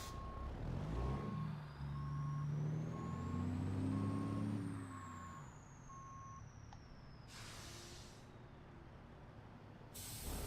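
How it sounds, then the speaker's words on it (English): A truck's reversing beeper, added by the game, chirps in a steady repeating pattern over a low engine rumble, followed by sharp hissing bursts of air brakes, in American Truck Simulator. "When you hit the backup, you'll get better air sounds. And it adds in a beeper"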